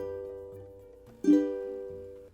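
A single ukulele chord strummed once, ringing out quietly and close up in a calm room, then decaying alone.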